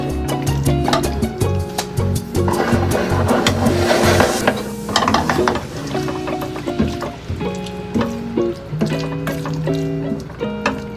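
A spoon scrapes and clinks around a pan of creamy chicken and spinach, mixed after salt and pepper have gone in, with irregular stirring strokes over a soft simmering sizzle, close and fairly loud.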